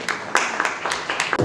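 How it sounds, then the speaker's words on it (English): Applause for Ankur Jain, Chief Business Officer of Sunstone University, as he is introduced at a conference. Several bursts of clapping roll through the hall for about a second and a half, with crowd noise mixed in. "A round of applause for him."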